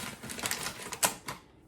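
Scissors snip through the plastic zipper strip of a flour bag, a quiet run of crisp cutting clicks and crinkles ending in one sharper snip, up close in a kitchen.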